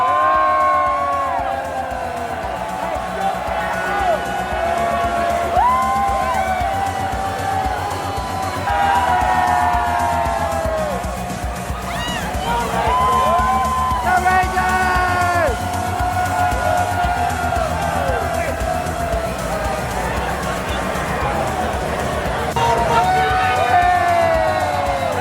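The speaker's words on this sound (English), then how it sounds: "And the crowd was going crazy. We were all cheering everybody on." A large, dense crowd at a World Series victory parade for the Texas Rangers cheers, whoops and shouts without letup, with scattered clapping and high yells rising over a steady roar; voices chatter throughout.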